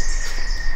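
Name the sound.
small birds chirping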